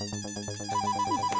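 A mobile phone ringtone rings late at night indoors, a repeating electronic melody with steady pulsing beats and a rising high tone, fairly loud and alone without talking.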